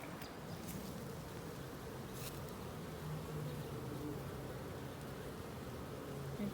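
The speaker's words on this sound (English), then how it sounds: "we're going to check out the front of the hive and see how are they doing" Honeybees hum in a continuous, dense buzz at a hive entrance, a quiet swarm drone with individual bees passing close now and then.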